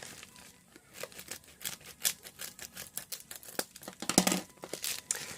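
A package of BTS merchandise being opened, with continuous crinkling and tearing of plastic wrapping, close up and busy, rising to sharper bursts near the end, with no voices.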